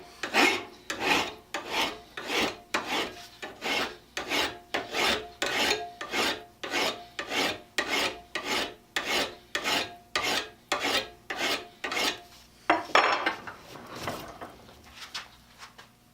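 A file rasps over a Stanley scraper plane blade in steady, evenly spaced strokes, around twenty close, loud passes, before a rougher, scraping sound of different character closes the clip.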